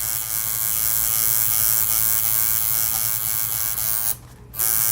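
A tattoo machine fitted with a small 1205 needle buzzes steadily while shading a portrait, a close electric hum that cuts out briefly near the end before resuming.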